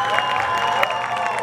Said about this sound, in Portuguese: eu queria pedir uma salva de palmas aqui à companhia Bruna Sanches